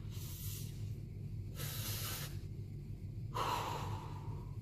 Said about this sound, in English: And as we hold the button down, we inhale.